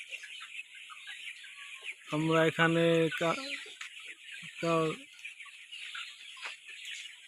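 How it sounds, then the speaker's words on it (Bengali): Sonali chickens cluck in short bursts on a farm, with a few loud, close calls over a steady high background hum and a person briefly talking. "রোশনি আপার মুরগির ফার্মের মুরগি"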